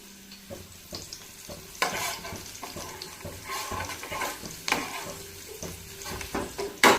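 Chopped onion frying in a pan with a pinch of salt while being stirred, a low continuous sizzle broken by repeated scraping and clinking strokes of a spoon against the pan, close and without talk.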